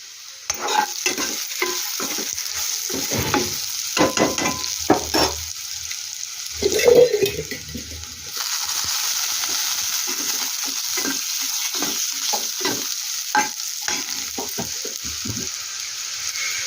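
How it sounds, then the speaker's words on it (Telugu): Close-up frying sizzle of ivy gourd (dondakaya) with curry leaves in oil, with repeated scraping and clinking of a spatula stirring in a pan, then a steadier hiss; nobody speaks. "ఇది వేగుతూ ఉంది ఇంకా కొంచెం బాగా వేగాలి"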